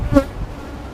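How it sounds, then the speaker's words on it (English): Honey bees fly around a hive, one passing close with a short, loud buzz before fading into a low background hum. "So they still have bees coming and going."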